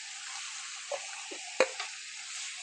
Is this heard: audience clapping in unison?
no